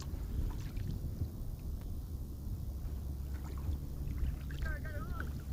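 A fishing kayak being back-paddled on open water gives soft rhythmic water swishes and splashes over steady wind noise, with a brief reel-like whine near the end.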